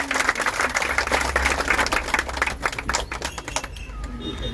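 Applause and clapping from an audience at a Shravan-month devotional pilgrimage gathering for Mehta of the JP Mehta Charitable Trust, a dense, loud patter of many hands that thins out toward the end.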